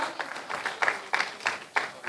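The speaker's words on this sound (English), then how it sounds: "Everybody please give a huge round of applause to all speakers." Conference audience at a world conclave in Goa clapping for the speakers, a sparse, uneven round of applause with separate bursts and gaps between them, fairly close.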